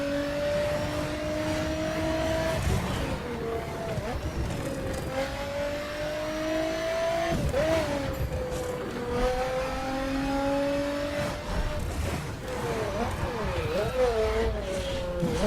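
A Lotus cruises in the driving game The Crew, its engine note rising and falling steadily as it changes speed, a continuous loud hum with gear shifts and occasional bumps.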